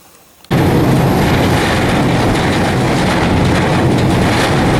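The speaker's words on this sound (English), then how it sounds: "We left Bar on this gondola train" A gondola freight train rolls along in the Balkans after leaving Bar, its loud, steady broadband rumble and rattle starting abruptly and holding constant, close and unbroken, with no voices.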